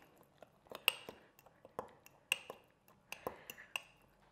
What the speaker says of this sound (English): And then we're going to stir that around.